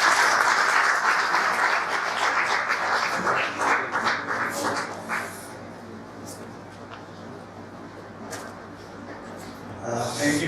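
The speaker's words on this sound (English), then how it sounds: "Please join me in welcoming Professor Goswami with a big round of applause." University audience giving a lecturer a warm round of applause at an academic talk on Eliot's Prufrock, loud dense clapping at first that thins and softens midway, then swells slightly again near the end.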